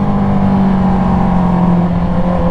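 A 2020 Honda CB650R motorcycle's loud exhaust drones steadily and close, a continuous engine roar with no voices over it.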